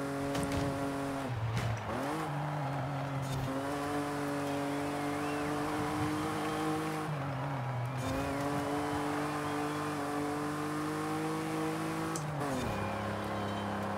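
A limousine drives in Forza Horizon 5, its engine droning steadily and climbing in pitch through each gear before dropping at shifts, loud and continuous with faint tire noise and no talking.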